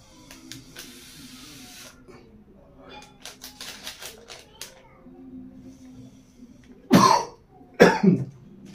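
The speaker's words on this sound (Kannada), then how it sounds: "ನನಗೆ ಕೆಮ್ಮು ಬರ್ತಾ ಇದೆ" A person inhaling sweet, smoke-like vapour through a straw coughs twice, loudly and close up, after a stretch of quiet clicks and rustling.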